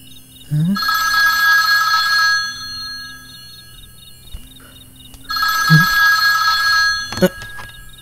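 A mobile phone that has been switched off rings anyway in a horror-film scene, two loud close bursts of electronic ringing with a pause between, over a steady low hum and faint chirping.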